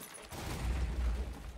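Video game gunfire rattles as a dense, continuous burst of shots with heavy low-end rumble, steady and loud throughout with no talking.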